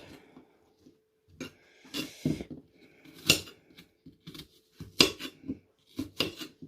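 A knife cuts apple into small pieces on a board, with sparse crisp chops and scraping taps spaced irregularly, close and fairly quiet with silence between strokes.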